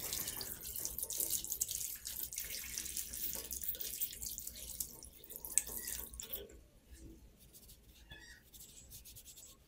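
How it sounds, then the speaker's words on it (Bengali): Water running from a tap as soap is rinsed off hands at a sink, a steady splashing rush that is louder at first and then drops to a softer trickle partway through. "3 মিনিট পরে আমি এই সাবানটিকে এখন ধুয়ে ফেলবো।"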